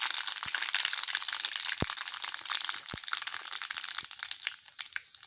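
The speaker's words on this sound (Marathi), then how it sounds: "गरम झाले आपण टाकायची जिरी मोहरी। जिरी मोहरी टाकली मी।" Cumin and mustard seeds crackle and pop in hot oil. The sizzle is dense and continuous, with a few sharp louder pops standing out, fairly close and moderately loud.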